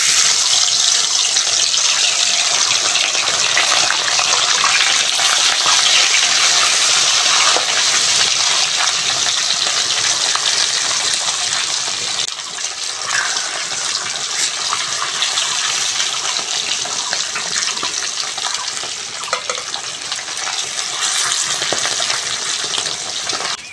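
Fish frying in hot mustard oil in a wok, a loud, steady, dense sizzle and crackle that carries on without pause, with no talk over it.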